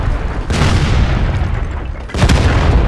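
Tank cannon fire in a tank video game, two heavy booming blasts a little over a second and a half apart, loud and close, each leaving a dense rumbling roar that fills the gap.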